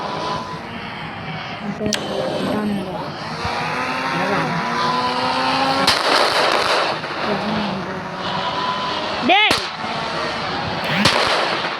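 Gunfire crackles through a GTA zombie-mode game with Franklin, with repeated sharp shots and booming blasts over a constant wash of game noise and engine rumble.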